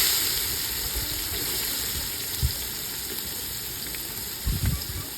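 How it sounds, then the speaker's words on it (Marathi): Onion fries in a pan over a high flame for egg biryani, a steady close sizzle with a couple of brief clatters from stirring. "तुम्ही बघू शकता कांदा मस्त फ्राय करणं चालू"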